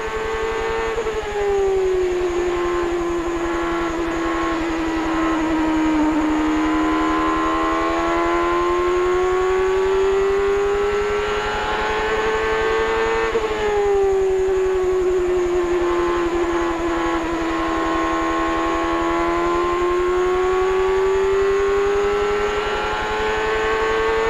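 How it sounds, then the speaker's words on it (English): A CART race car at the 1996 Milwaukee race, its engine note rising and falling as the driver works the throttle, a loud continuous whine sweeping up and down in long arcs. "You can hear him in there trying to work that throttle"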